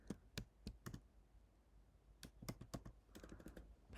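Typing on a computer keyboard, quick bursts of close, crisp key clicks separated by short pauses, quiet and with no voices.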